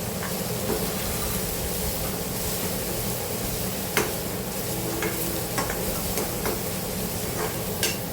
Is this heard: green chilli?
yes